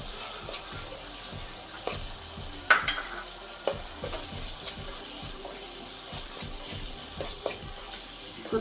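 Spicy chicken spaghetti mixture seasoned with garam masala being stirred in a pan, giving repeated soft scraping strokes with light clicks of the utensil over a faint sizzle, fairly quiet and close with no talking.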